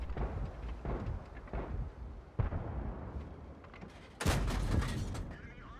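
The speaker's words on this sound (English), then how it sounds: "Now he is firing the gold, which is giving his gun just a little bit more oomph" Heavy tank gun blasts in War Thunder on a fjord map, including a Valiant firing premium gold rounds: two loud booming shots, one midway and a bigger one near the end, over a dense rumbling battle bed with voices under it.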